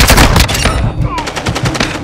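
Rapid bursts of automatic gunfire from the video game Call of Duty: Modern Warfare II, loud and close, in dense repeated volleys across the whole stretch.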